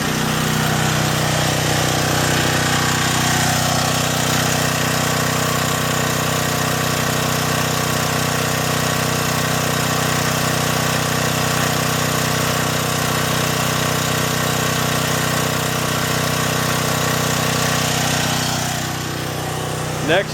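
A small John Deere/Briggs and Stratton generator engine runs steadily and loudly at a constant speed throughout, a droning hum with no change in pace until it eases slightly at the end.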